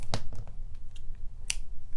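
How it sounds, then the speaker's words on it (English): Scissors snip through crochet yarn in two short, crisp cuts, one early and one near the end, with quiet background between them. "now we're going to cut our yarn"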